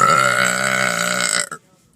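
One long, loud, tonal burp rolls on for about a second and a half before cutting off sharply, leaving near silence.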